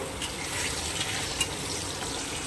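Dried red chillies and nigella seeds frying in hot mustard oil give a steady, soft crackling sizzle throughout, with no voices over it.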